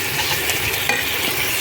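Spice masala cooks down in a pan for paneer pulao, a dense close sizzle with rough stirring scrapes running through the whole short stretch.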